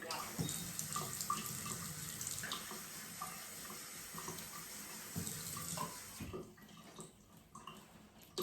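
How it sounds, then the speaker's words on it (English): Tap water pours steadily into a container indoors, a continuous close splashing stream that thins out toward the end, with faint drips and small knocks. "Add some tap water and this is what happens."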